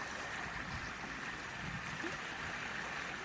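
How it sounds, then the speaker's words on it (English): Water flowing in a stream along a muddy, leaf-strewn woodland path, a soft continuous rushing and gurgling, steady and fairly faint. "Can you hear the water?"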